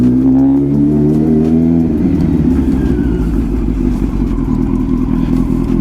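A Kawasaki Z900 motorcycle engine idles then pulls away, its loud close rumble shifting from a steady idle note to a rougher, sustained riding drone.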